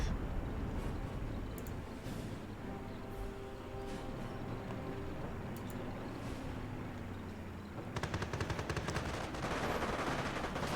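Dense game gunfire from a Company of Heroes battle, with machine-gun bursts and scattered rifle shots rattling over a constant battlefield rumble, swelling into a louder, busier volley near the end.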